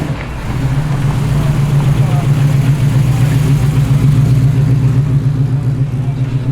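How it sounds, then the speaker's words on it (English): A yellow Holden VB Commodore rolls into a busy car show in Sydney, its engine giving a steady, low, loud burble that holds throughout, with voices faintly around it. "And a VB Commodore in the yellow, about to roll in."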